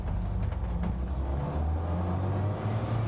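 A restored Land Rover Series IIA pulling away with a steady, low engine rumble. The sound is close and continuous, with no talking.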